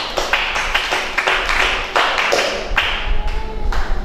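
A church congregation claps hands in praise to Jesus, a dense run of sharp overlapping claps with uneven rhythm filling the room, close and steady throughout with no clear voices.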